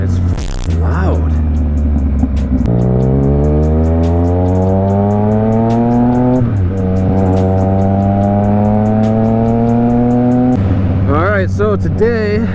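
A loud aftermarket car exhaust revs and climbs through several rising gear pulls, each a long upward sweep before dropping and building again, close and dominant, with a brief crackle at the end.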